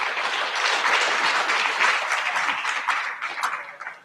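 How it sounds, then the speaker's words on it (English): An audience at a panel discussion applauds its guests steadily for a few seconds, dense clapping that gradually thins out toward the end. "a round of applause for our guests."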